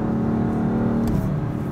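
A BMW M4 engine revs with a deep, dark tone, a steady loud drone that swells slightly toward the end, with no talking over it.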